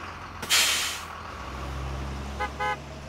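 A bus pulls up in the Minecraft game with a sharp hiss of air brakes, then a low engine idle and two short honks near the end.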